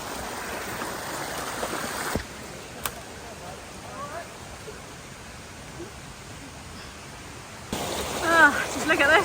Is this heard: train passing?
no